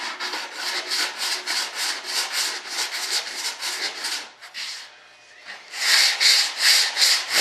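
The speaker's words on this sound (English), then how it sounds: "We don't want to sand off anything that we need." Rhythmic back-and-forth sanding strokes on an RC jet B-1 bomber model, loud and close, a steady run of strokes that pauses briefly midway before resuming with firmer, brighter passes.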